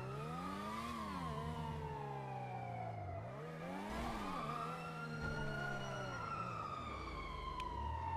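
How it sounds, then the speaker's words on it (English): Several emergency vehicle sirens wail and sweep in pitch together, loud and continuous, with overlapping rising and falling tones throughout. "Where are those sirens at?"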